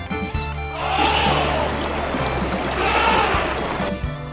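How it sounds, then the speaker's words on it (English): A grasshopper's chirping, a dense, continuous insect trill in two sustained swells, fairly loud and close with no voices. "Grasshopper."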